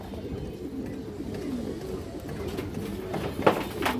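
Pigeons, a fancy breed shown by a keeper, coo softly and continuously at close range over a low murmur, with a brief louder rustle near the end.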